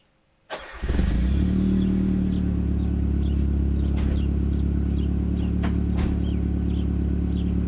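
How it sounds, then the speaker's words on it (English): A Nissan S13 with a CA18DET engine cranks briefly and fires up, then settles into a loud, steady idle close by, alone without talk. "while the car starts you can hear it at least"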